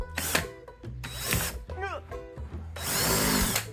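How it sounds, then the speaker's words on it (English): A power drill whirs in several short bursts, revving up and stopping, with a longer final grinding run drilling into the side of a paint can, close by. "But I'm just gonna drill into the side."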